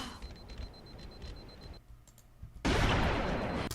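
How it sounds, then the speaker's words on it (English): Sniper rifle fire from the video game Halo Reach, heard as loud sharp cracks with layered, overlapping shots, ending in a dense, sustained burst of noise. "You can hear the layers of sniper rifle on top of one another."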